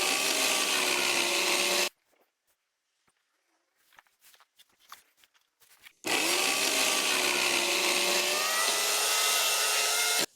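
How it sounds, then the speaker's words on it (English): A power tool cuts up wooden pallets in two long, loud, steady bursts, each a few seconds long. Between them comes a quieter gap filled with light knocks and rustling of the wood being handled. "that massive pile of pallets has all been cut up"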